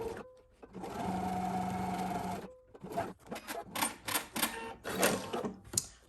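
A sewing machine stitches binding onto a quilted box bag, giving a steady mechanical whir for about a second and a half, then a series of short, quieter stitching bursts with pauses between them, close and with no talk.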